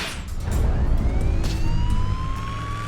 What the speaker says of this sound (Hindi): तुम अपना सायरन बंद क्यों नहीं करते?